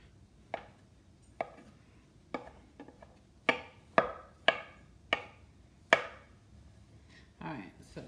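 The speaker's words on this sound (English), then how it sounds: "Alright, so cut it in half, lay it down flat. And then just a nice chop." Potatoes cut in half and laid flat are chopped with a knife on a board for home fries. The sharp, close thuds come irregularly, then cluster into a quicker run in the middle.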